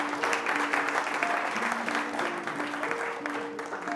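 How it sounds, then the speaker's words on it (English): Outdoor crowd applauding a young runner at a race finish line, steady clapping throughout with tonal background noise and a few faint voices mixed in. "can we get a round of applause please everyone"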